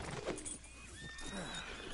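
A horse in the video game Red Dead Redemption gives a short, breathy whinny and snort over a low steady background, brief and close.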